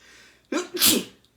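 One close, sharp sneeze, a short intake followed by an explosive burst, in an otherwise quiet room.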